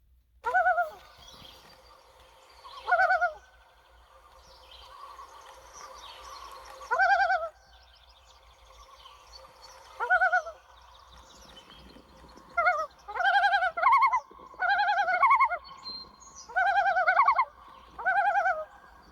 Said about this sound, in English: I always thought it was some sort of something to do with loon birds, which have a beautiful sound.